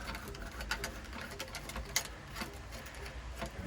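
A 5/16 inch socket wrench loosens the hose clamp joining a Hayward multiport valve to a pool sand filter, giving a quiet, steady run of fast ratcheting ticks close by with no talk.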